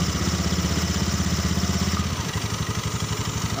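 A fuel-injected Honda Beat motorcycle engine idling close by after repair, a steady rapid putter that turns into a slightly uneven, pulsing chug partway through, with no talking.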